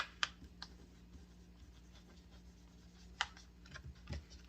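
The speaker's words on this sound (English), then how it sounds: "So you just write on it." A marker scratches and taps against a sealed plastic freezer package of rhubarb and strawberries, a few sharp strokes and clicks standing out from a quiet, steady room hum.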